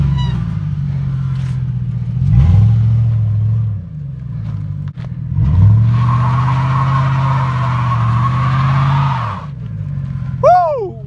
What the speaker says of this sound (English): We got that one wheel burnout, cause my shit don't got a limiter slip.